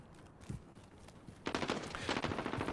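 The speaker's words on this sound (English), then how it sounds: "Using that high ammo, rapid fire, great ADS speed, SMG." Rapid bursts of submachine gun fire in a competitive military esports shooter match, loud and close, starting faint then turning into sustained, dense automatic volleys.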